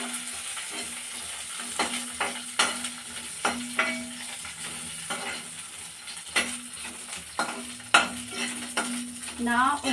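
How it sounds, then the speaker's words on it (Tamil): Dried red chillies fry in a pan for a Tamil spicy chutney, with a steady sizzle broken by repeated clinks and scrapes of a stirring spoon against the pan, all close and with no talking. "அதுக்கப்புறம் காஞ்ச மிளகாய் போட்டு வறுத்து எடுத்துக்கலாம்."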